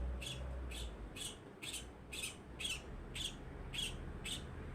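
A pet bird indoors near a window gives a run of about nine sharp, evenly spaced squawking chirps, close and fairly loud, over a faint low background hum.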